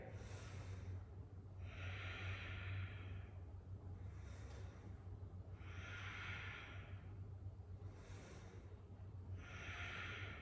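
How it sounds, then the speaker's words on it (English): Slow, deep breaths taken while holding a yoga pose in a vinyasa flow class, three long airy inhale-exhale cycles evenly spaced, close and soft, with no talking. "Take 3 breaths here."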